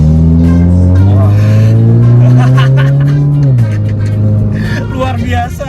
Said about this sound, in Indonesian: setiap kali kita lepasin gas ada suara meletup-meletup, blebek